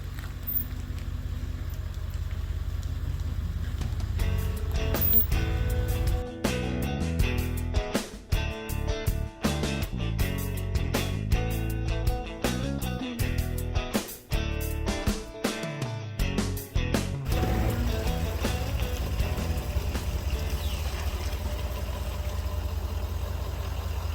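A car idles with a steady low engine hum while it is eased into a tight garage, with small revs, knocks and shuffling sounds in the middle before the idle settles again.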